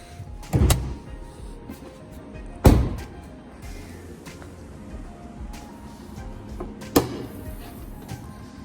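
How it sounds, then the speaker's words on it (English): Opening the hood of a 2019–2020 Dodge Ram 1500 pickup: three separate sharp clunks and thuds of latch and hood spaced several seconds apart, with quiet handling noises between them. "Let's go ahead and pop the hood."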